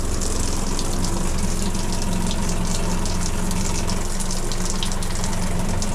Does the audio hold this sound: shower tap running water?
yes